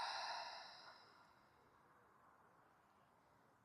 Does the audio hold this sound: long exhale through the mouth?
yes